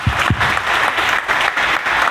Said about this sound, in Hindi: जब मैं कहता हूँ प्रभु यीशु के लिए ताली, तो अच्छा ताली होना चाहिए